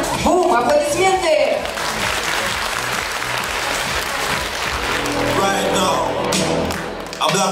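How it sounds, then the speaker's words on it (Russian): Applause at a 2022 dance recital for a hip-hop performance, a loud, dense burst of crowd clapping mixed with thumps and voices, music entering near the end. "Встречаем дружными аплодисментами"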